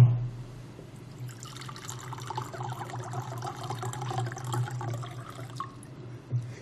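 A little water pours into a glass at a working-group meeting, a soft trickling splash lasting several seconds over a low steady hum in a quiet room.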